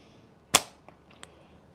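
One sharp snap of a slingshot firing clay ammo, close and crisp, followed by two faint, distant ticks in an otherwise quiet setting.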